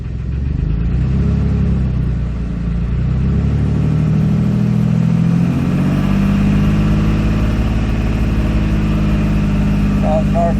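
A 2007 Dodge Nitro engine with a low-oil-pressure fault idles steadily up close, a loud, even mid-pitched hum with a low rumble that holds through the whole stretch.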